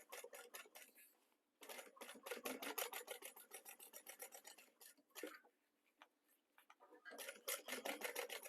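A domestic sewing machine top-stitches a handbag lining in fast, even bursts, running about a second and a half, pausing, then stitching long runs with brief stops, close and clear.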